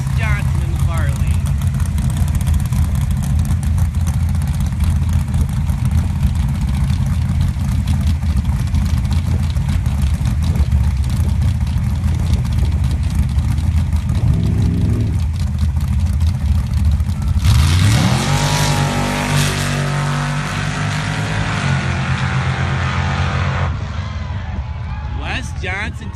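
Sand drag race cars at a pro bracket elimination event rumble and rev under continuous announcer talk, with a loud engine surge bursting in near the end as the cars launch down the lanes.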